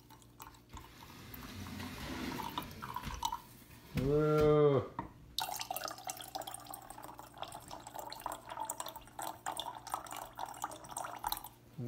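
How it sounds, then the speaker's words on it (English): Water poured from a container into a bottle for a homemade lava lamp, a short trickling fill sitting mid-clip amid a quiet room with background noise and a brief spoken greeting. "we're gonna fill it up about a quarter of the way with water"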